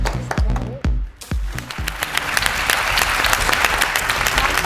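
A studio audience breaks into applause for the winner of a South African tourism advertising task: a few scattered claps at first, then dense, sustained clapping that fills the room.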